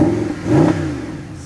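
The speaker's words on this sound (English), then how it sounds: "let me rev it so you guys can hear what it sounds like" A Mercedes SLS AMG 6.3 V8 engine revs up once with a deep rising growl, then settles back to a steady idle burble.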